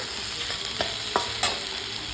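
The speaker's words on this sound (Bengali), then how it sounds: "আর এখানে আলু এখনও ভাজা হয়নি ভেজে নিচ্ছি" Steady sizzling of potatoes frying in a pan, broken by three or four sharp scraping stirs of a utensil.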